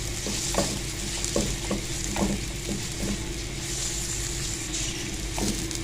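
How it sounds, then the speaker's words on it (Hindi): Onions frying in a pan for chicken paratha stuffing, with a steady hiss under repeated scraping spatula strokes that come at an irregular, quick pace, close and without talk. "प्याज हमारा फ्राई हो गया"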